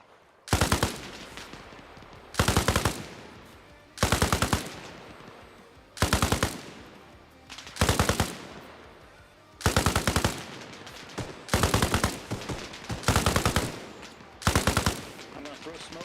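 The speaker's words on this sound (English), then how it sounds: "Bolt, put fire on that objective" Bursts of automatic gunfire in the military shooter Arma Reforger, about nine loud, sustained volleys spaced a second or two apart, with faint voices underneath.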